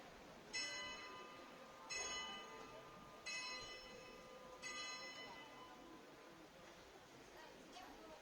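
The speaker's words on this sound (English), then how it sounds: "You heard the 3 bells were played. That bell sound was came from this clock." Four clear bell strikes ring out from a clock tower in central Liberec at steady intervals, each tone lingering and fading under distant outdoor noise.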